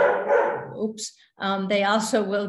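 A pet dog barks a few times close by, short sharp woofs heard under and between a person's ongoing talk.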